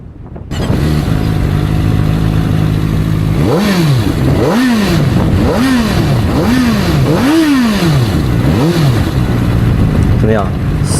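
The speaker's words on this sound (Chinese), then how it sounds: "4缸的声浪还是比较绵密和好听的" A CFmoto 500SR four-cylinder motorcycle idles and then revs sharply about six times in quick succession, each blip rising and falling, loud and close.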